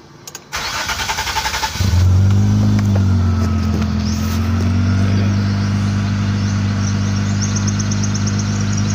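A motorcycle with a one-click starter cranks briefly, catches and starts, then settles into a loud, steady idle close by with a slight rev early on; the bike has a hard-starting, stalling fault.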